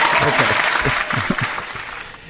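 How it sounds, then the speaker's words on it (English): Brief burst of applause welcoming a guest on a podcast, dense clapping that fades over two seconds with a voice talking underneath. "Give you a little applause here"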